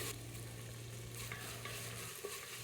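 Chopped tomatoes and softened onions fry in a pan as they are stirred, giving a steady close sizzle with scraping stir strokes throughout and no voices.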